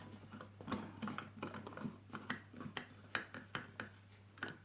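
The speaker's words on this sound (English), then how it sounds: "So anyway guys, I'm going to put it into the socket now." Philips 160 watt self-ballasted mercury vapor floodlight bulb being fitted into its socket, a series of close, quiet clicking and scraping ratchet-like sounds at an irregular rhythm over a steady low hum, with no talking.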